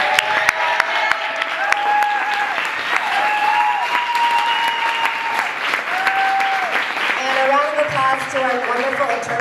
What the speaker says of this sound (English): Can we have one more round of applause for all of the honorees tonight?